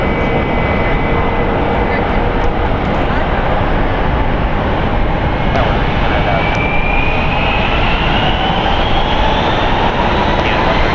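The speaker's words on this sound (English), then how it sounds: "So look how loud these planes are." Jet airliners at San Francisco International Airport, a loud, continuous roaring engine wash with a rising whine as a plane passes close by, dominating the whole stretch.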